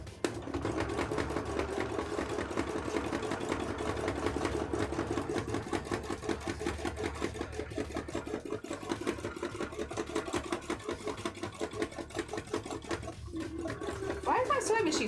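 Embroidery sewing machine stitching steadily with a rapid mechanical chatter throughout, close and continuous, with a person talking over it.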